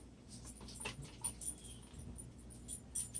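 A dog whimpers and pants nearby in short, irregular bursts, with faint high whines over a quiet indoor background.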